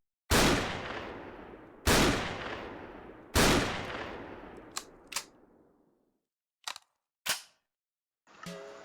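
M82 Barrett sniper rifle shots in the game Special Force: three loud, evenly spaced single blasts with long decaying tails, followed by quieter clicks and mechanical handling sounds, with no voices.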